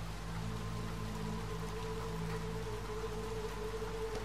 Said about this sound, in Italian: Piove, sembra sul bagnato.